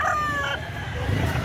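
A gamefowl rooster at a market in Carbon, Cebu crows once, its drawn-out call fairly close and clear over a low, steady background rumble.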